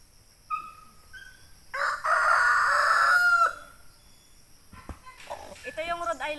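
A Rhode Island rooster gives clucks, then a loud, drawn-out crow near a chicken coop, followed by softer clucking and other bird sounds; a person's voice is faintly present at moments.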